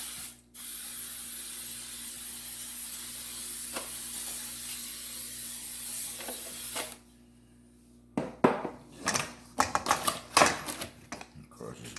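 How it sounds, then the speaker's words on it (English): Pan release spray hisses steadily into a 9-inch springform pan for several seconds in a kitchen while baking a white chocolate cheesecake. A brief silence follows, then a series of clattering, tapping sounds. "We're going to spray our 9-inch spring foam pan with some pan release."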